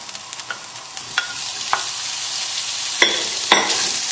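Bacon sizzling in a pan over high heat, a continuous frying hiss punctuated by sharp pops and crackles, with a few louder spits near the end and no talking.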